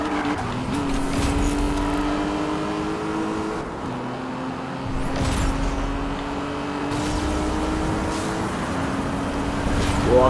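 A race car driven in the video game Need for Speed Rivals on Xbox One: a steady engine roar with rising gear whines, tire squeal and skidding throughout, loud and continuous.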